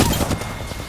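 Rapid automatic gunfire from the battle royale video game Apex Legends, a dense, loud, continuous burst of shots filling the whole moment with no talk over it.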